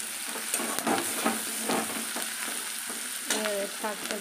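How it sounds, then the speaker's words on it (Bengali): Onions fry in a pan for greens, a steady sizzle with repeated scraping stirs close by. "পেঁয়াজটা ভাজছি"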